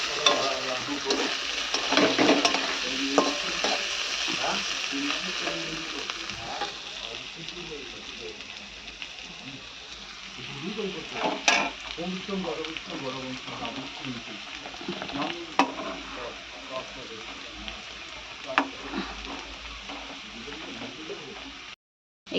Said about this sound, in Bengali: এখানে হচ্ছে আলু ভাজা।